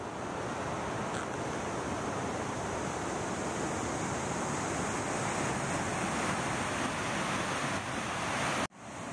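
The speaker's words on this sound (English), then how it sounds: "is the water flowing out of the Sacramento Weir with the gates closed" River water pours over the Sacramento Weir with its gates closed, a broad, steady rushing roar heard at a distance, flat and continuous with some wind buffeting, cutting off abruptly near the end.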